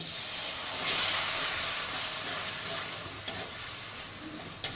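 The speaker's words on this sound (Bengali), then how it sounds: "মশলাটা যেতে ভালো করে কষানো যায় সেই জন্য একটু জল দিয়ে দিলাম" Cumin paste sizzles and hisses steadily in a hot pan after a little water is added while cooking mutton-fat aloo dum, with a couple of sharp stirring clicks near the end.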